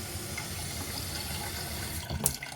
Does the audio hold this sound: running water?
yes